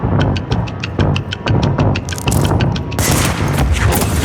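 Rapid gunfire from the video game Control, a steady run of sharp repeated shots about twice a second, loud and close, thickening into a denser burst near the end.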